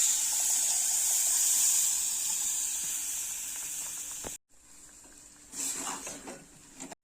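Chili masala for a mackerel curry sizzles with a bright, steady hiss. After a sudden break, soaked kudampuli water goes into the pan, setting off a fresh, brief burst of bubbling and spitting.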